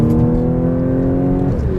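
A 2015 Audi S4 with a supercharged V6 accelerates hard, its engine note loud and close with a steady harmonic drone that rises slightly before easing near the end.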